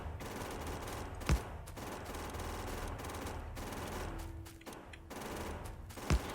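Rapid automatic gunfire from a character shooting at a rock in the game Factorio, a continuous rattling burst over a low rumbling background, punctuated by two louder sharp cracks.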